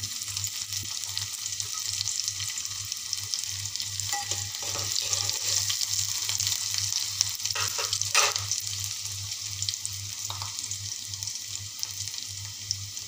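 Garlic paste is stirred into softened onions frying in a pan for Maharashtrian egg bhurji, giving a steady close sizzle with scraping stirs and a low constant hum underneath.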